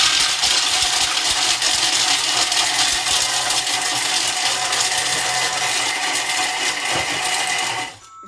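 Food processor blade whirring at speed 5.5, chopping 30 grams of hazelnuts under a closed lid, a steady loud grinding drone that runs for about eight seconds before cutting off abruptly.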